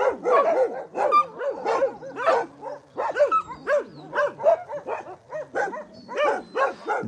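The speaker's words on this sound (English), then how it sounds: "I will walk this way to show you really fast some more dogs that are shy of people and very active." Shy, very active dogs at an animal shelter bark and yip in a steady overlapping chorus, several animals close by with sharp repeated barks and occasional whimpers throughout.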